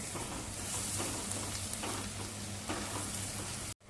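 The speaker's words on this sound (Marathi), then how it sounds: "सगळं चांगलं एकदा परतवून घेऊया." Spices and bedgi chili powder frying in a pan while being stirred, giving a dense, continuous close sizzle with soft scraping and no talk, cut off abruptly at the end.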